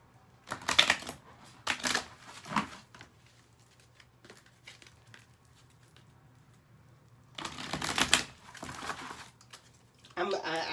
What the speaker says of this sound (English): Shuffle the deck three more times.